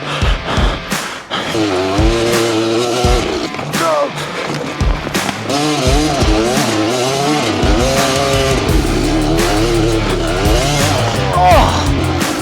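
A 1992 Kawasaki KDX200 dirt bike is ridden, its engine loud and close as it revs up and down in rising and falling sweeps, with rough wind and ride noise throughout.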